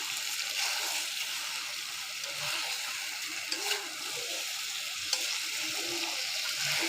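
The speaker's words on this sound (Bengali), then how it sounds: "এই কষানিটার উপরই নির্ভর করে আমার রান্নাটা কেমন হবে তাই তো আমি সময় নিয়ে ভালোভাবে কষিয়ে নিচ্ছি" Chicken and potato curry sautés in a pan, giving a continuous soft sizzle with occasional stirring scrapes, fairly close and steady throughout.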